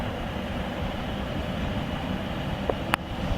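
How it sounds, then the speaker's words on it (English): A loaded southbound BNSF grain train rolls by with a continuous rumbling roar of railcars, near and steady, with a couple of brief metallic clicks near the end. "Southbound loaded wheat train."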